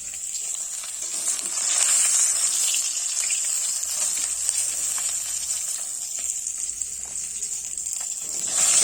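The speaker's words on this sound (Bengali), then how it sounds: "এইদিকে মাছগুলো ভাজা হয়ে গেছে এখন আমি সব একে একে তুলে নিচ্ছি" Cut fish pieces fry in hot oil as they are lifted out one by one, a continuous hissing sizzle that stays fairly loud and even throughout.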